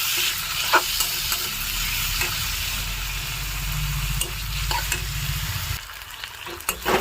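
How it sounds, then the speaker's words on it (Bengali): Marinated chicken stirred into fried onions in a pan: steady loud sizzle with scraping stir strokes, continuous and close, easing off toward the end. "আমি এইবার ম্যারিনেট করা চিকেনটা দিয়ে দেবো এবার একটু নেড়ে নেবো"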